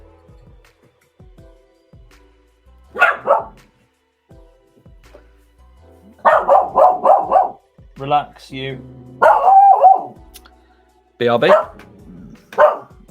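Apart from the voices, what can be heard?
dog barking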